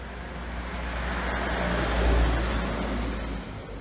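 Steady low traffic rumble at a roadside bus stop in the early hours around 2:45 a.m., with vehicles droning past at moderate distance and a slight swell midway, no voices present.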